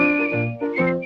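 A man whistles a short, bright melodic phrase in an old-time radio drama, clear and close with sustained tones that shift pitch, heard alone.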